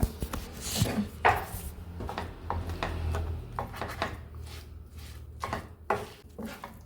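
Homemade pickle is stirred in a pot, giving repeated close scraping and knocking strokes of a utensil against the pot in an uneven rhythm.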